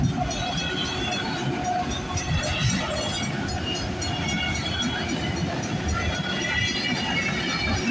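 CP freight train 130 rolls past at Bronte Street with steady, loud, close wheel rumble and rail noise, faint clicks and squeals over it, no talk.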